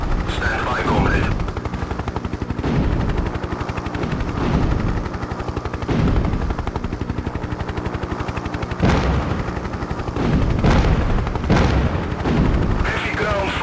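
Heavy ground fire in the 1996 helicopter sim Hind during a Kazakhstan mission to reinforce a besieged garrison: dense, continuous bursts of machine-gun and cannon fire with repeated booming impacts, loud and close, over a constant rotor drone.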